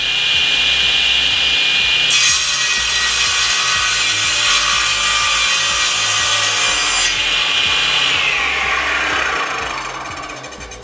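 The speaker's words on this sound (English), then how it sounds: "bring our wood in and do the cut in exactly the same manner as we were a moment ago" A SIP cast iron table saw whines steadily as its blade bites into wood for an angled cut, the pitch shifting under load for several seconds before spinning freely and winding down.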